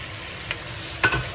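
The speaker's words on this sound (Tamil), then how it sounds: "இப்போ தக்காளியும் நல்லா வதங்கட்டும்" Onions and small tomatoes sauté in a pan for fish curry, a soft steady sizzle broken by two brief spoon scrapes, close and quiet.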